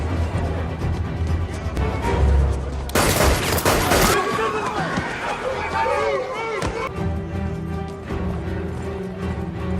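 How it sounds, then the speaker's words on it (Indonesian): Gunfire erupts in a crowded market during a film chase scene, sharp bursts of shots over panicked crowd noise and music, with a narrator talking throughout. "di mana suara tembakan mulai terdengar dan memicu kepanikan massa"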